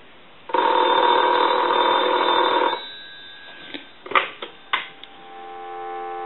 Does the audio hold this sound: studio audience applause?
no